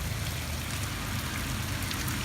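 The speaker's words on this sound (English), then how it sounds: "The rain is officially coming down, everybody." Rain comes down steadily in Pennsylvania, a dense, even hiss of drops on surfaces, close and continuous throughout with no voices.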